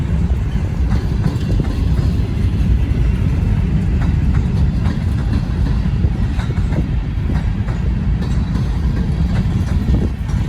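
A freight train hauling oil tank cars rolls steadily past close by, a loud continuous rumble with rhythmic clickety-clack of wheels over rail joints and wind roar throughout.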